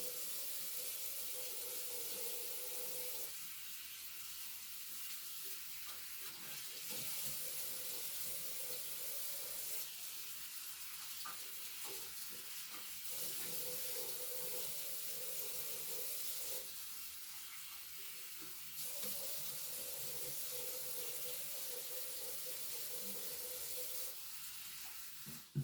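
A tap runs steadily as a face is rinsed with lukewarm water during an evening skincare routine, a continuous hiss broken by periodic shifts in the splash as hands dip in and out of the stream.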